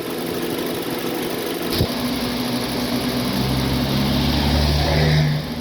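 A Honda City car engine idles steadily with a low rumble, a short clunk near the start and the hum growing slightly fuller toward the end.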